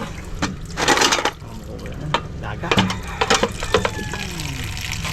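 Water pours into a cooking pot with splashing bursts and an uneven, gurgling flow, close by, while voices speak briefly over it.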